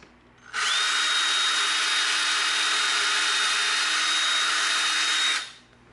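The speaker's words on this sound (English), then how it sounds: "drill the hole for our barrel to go into our body" A power drill whirs at high speed drilling a pilot hole in EVA foam, in one steady burst of about five seconds, starting and stopping abruptly, loud and close.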